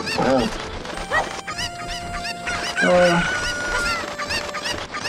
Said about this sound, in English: I'm just getting all these chickens real quick